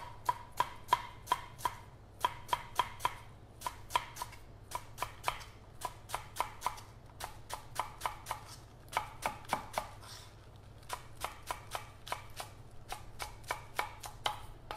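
A knife chops napa cabbage on a cutting board for a Korean pancake, cutting it diagonally in steady bursts of quick, crisp strokes grouped in runs with brief pauses, close and clear throughout.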